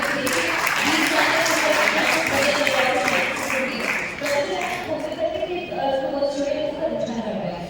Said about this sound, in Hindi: ये तालियां तो बजनी चाहिए।